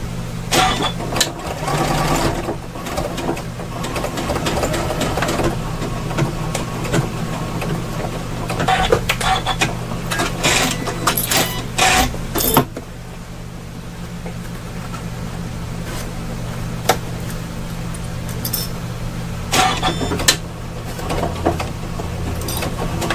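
A sewing machine runs steadily as it stitches fabric for a wire frame embroidery bag, sewing a locking stitch with a rapid mechanical chatter, close and fairly loud, with a brief pause partway through and no talking.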